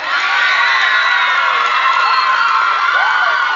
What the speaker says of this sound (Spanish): Aplausos la número 2.